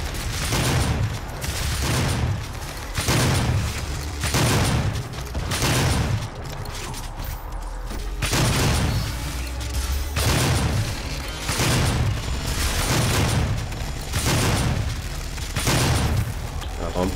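Super shotgun blasts from the DOOM video game, heavy booming shots repeating roughly every second with mechanical reload clacks between them, loud and continuous across the stretch.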